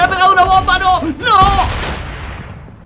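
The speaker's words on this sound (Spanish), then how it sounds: "¡Me está tirando bombas!" Bomb explosions in the Fortnite video game, loud bursts and booming blasts in quick succession, with a game voice or shouting mixed in, the last blast decaying into a fading rumble.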